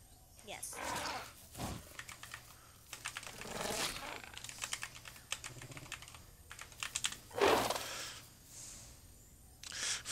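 Clattering bursts of typing on a computer keyboard come in uneven clusters and pauses while playing The Isle. Voices talk over and between the keystrokes.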